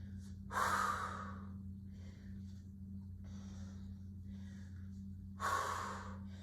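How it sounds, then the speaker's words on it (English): A person exercising with a weight lets out two forceful breaths, a big exhale near the start and another near the end, with softer breathing between, all over a low steady hum in a quiet room. "Big exhale as the hand is coming up."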